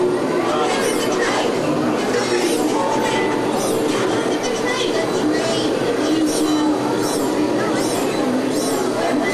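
A train rumbles past with rhythmic clattering and metallic squeals, steady and fairly loud, with people chattering in the background.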